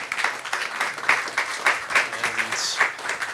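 An audience at a Houston music forum applauds the panelists, a short burst of clapping with distinct individual claps, fairly close.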